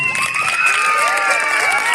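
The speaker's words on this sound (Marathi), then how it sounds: "जोरदार टाळ्या होऊन जाऊ द्या त्यांच्यासाठी" Cheers and shouts rise from a crowd of schoolchildren for the winning team at a Marathi school quiz competition, a loud, dense burst of high voices with clapping mixed in.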